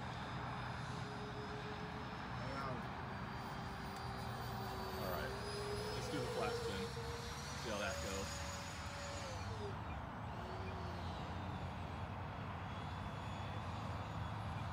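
A Freewing SU-35 RC model jet, modified toward an SU-37, flies on its maiden flight, its ducted-fan whine rising and falling in pitch as it passes, steady and moderately distant throughout.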